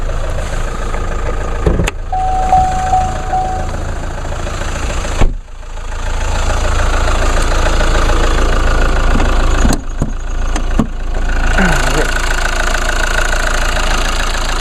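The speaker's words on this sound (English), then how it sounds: "I just love the purring of these little diesel engines" A small 2-liter four-cylinder turbo diesel engine idles close by with a steady low knocking rumble, continuous and fairly loud, with a few brief clicks and knocks.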